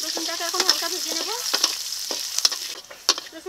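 Crushed garlic and whole cumin sizzle in hot oil in a pan, a steady close frying hiss broken by several sharp spatters and stirring clinks, with no voices.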